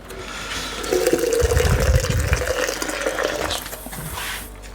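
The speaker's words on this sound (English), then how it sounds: "Back with more boiling water." Boiling water pours from a kettle in a thick splashing stream, louder in the middle and then trailing off into trickles, close by with faint handling noises, during home brewing in a shed.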